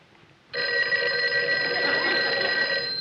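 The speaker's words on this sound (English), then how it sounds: "What's that? The phone." An old telephone bell starts ringing abruptly after a short quiet moment, then keeps up a loud, steady, shrill metallic trill close by with no pause.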